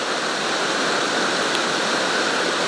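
The Bout du Monde waterfall roars in a steady, dense rush of falling water, loud and continuous with no pauses or voices.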